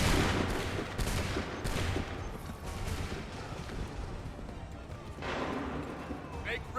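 A volley of musket gunfire from the video game Assassin's Creed 3 rings out as a series of sharp, loud, overlapping cracks and booms that fade into rumbling echoes, with a final burst near the end and voices talking underneath.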